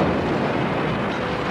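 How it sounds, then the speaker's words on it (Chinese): A powerful IRA car bomb, a garbage truck packed with tons of explosives, detonates in central London, heard as a loud, close, continuous broadband roar and rumble with no voices. "倫敦市中心的強力汽車炸彈爆炸就造成一死44傷"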